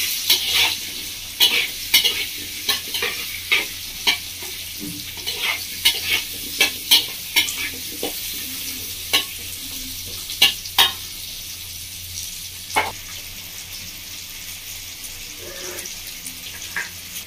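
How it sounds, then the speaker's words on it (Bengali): Raw papaya fries in a pan with turmeric and salt, a soft steady sizzle broken by sharp scraping clacks of a spoon stirring at irregular intervals, close and clear with no talk. "পেঁপেটা ভাজা হচ্ছে"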